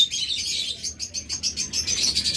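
Small birds chirp and twitter continuously in bright, high-pitched bursts, a busy chorus close by with steady rhythmic repetition.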